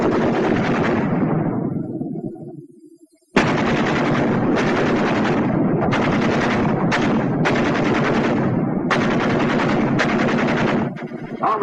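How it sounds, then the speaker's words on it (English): Two WW2 machine guns trade bursts of fire in a loud, sustained exchange, long rattling volleys broken by brief gaps, with a quieter fading burst before the main barrage. "Ever hear a battle between 2 machine guns?"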